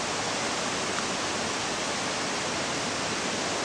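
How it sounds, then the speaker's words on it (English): Small waterfalls cascade along the steep banks of Princess Louise Inlet, a steady, broadband rushing of water that holds level and unbroken throughout, with no voices present. "And there's little waterfalls all along the sides of the bank."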